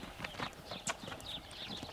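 Horses at Ghiroda, Timis, walk with a steady clip-clop of hooves, irregular overlapping hoofbeats at moderate distance over faint outdoor noise.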